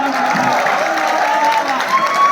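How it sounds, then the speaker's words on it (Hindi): An audience at a comedy show applauds continuously, a steady mass of clapping mixed with crowd noise and some voices throughout. "एक बार जोरदार तालियां बजा दीजिए।"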